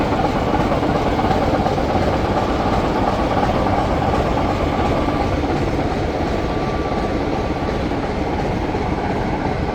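A diesel locomotive named Phil Southern runs at an autumn diesel gala on the East Lancashire Railway, a steady loud rumbling engine roar with constant rail noise and faint clickety-clack, without pauses throughout.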